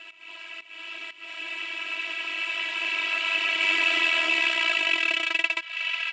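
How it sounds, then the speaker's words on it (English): Electronic synth pattern whose arpeggiator rate slows down, a bright buzzy tone with rapid pulses that stretch out before a stuttering finish, growing slightly louder over about six seconds with no talking. "from the first drop to the second verse, I have this synth that is slowing down."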